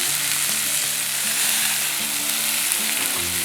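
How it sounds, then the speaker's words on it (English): Steak fries in melting rosemary-infused butter with a constant close sizzle and small popping crackles, and a faint stirring clatter runs underneath. "Just going to add the rosemary infused butter, probably about a tablespoon. Just let that melt through."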